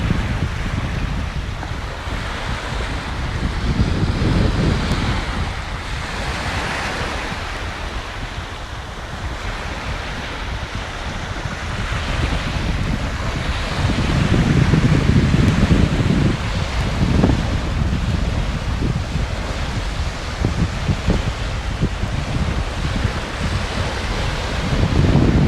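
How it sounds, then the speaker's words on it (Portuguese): Sea waves roll onto a sandy beach in a steady, loud surging wash, swelling and receding, with heavy wind buffeting the microphone throughout. "Eu vou me aproximar mais para você ouvir este som. É só a água do mar."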